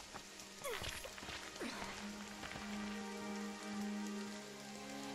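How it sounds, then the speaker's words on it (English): Steady rain falls in the turn-based tactics game Jagged Alliance 3, a continuous close hiss of drops pattering on surfaces that runs through the whole stretch, with faint game tones beneath it. "This rain is not natural."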